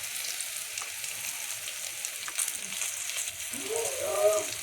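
Spices crackle and fry in hot oil in a pan while a bitter-gourd vegetable dish is cooked, a soft steady sizzle with scattered pops, moderately close, a voice briefly speaking near the end.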